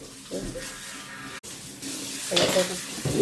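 Spices sizzle steadily in a hot pan with browned onions for an egg curry, swelling louder as something is stirred in, with a few clinks of utensil on metal.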